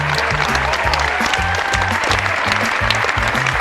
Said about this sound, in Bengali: হাততালিটা হোক